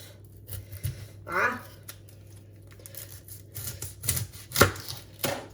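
A knife chops through a hard onion, cutting off its ends, with several sharp, uneven thuds and cuts against a board up close, while speech runs through the clip.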